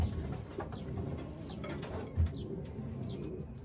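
A racing pigeon in a loft cooing softly a few times, low throaty calls with faint rustling and a brief wing-flap or bump among the birds.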